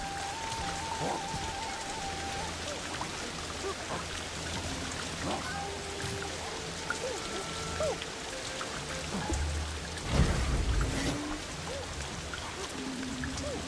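Steady rain patters over a survival game set in the prehistoric wilds of Ancestors: The Humankind Odyssey, a broad constant hiss mixed with soft game tones and a louder burst near the end.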